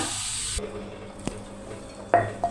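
A hot chili and mustard-seed tempering meets a pot of cassava with a sudden hiss, followed by a low simmer and a couple of short clinks and sizzle bursts near the end.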